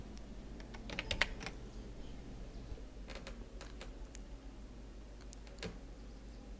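A few scattered keystrokes tapped on a computer keyboard to enter Ctrl+P, light clicks in small bursts against a quiet room with no talking.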